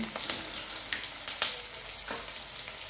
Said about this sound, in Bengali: তো আমি পেঁয়াজটা একটু লাল লাল করে ভেজে নেব